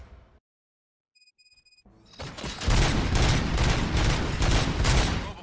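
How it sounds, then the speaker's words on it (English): Gunfire erupts in the RoboCop Rogue City video game after a short near-silence, a loud dense fusillade of rapid overlapping gunshots that continues without pause. "Gunshots?"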